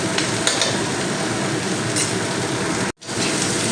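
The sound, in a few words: stirring black pepper powder into vegetable fried rice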